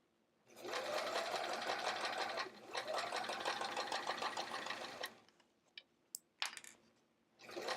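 A sewing machine bastes along a pocket edge of a fabric travel art folio, running steadily for about four and a half seconds with a brief slowdown, then stopping and leaving a few sharp clicks and handling taps.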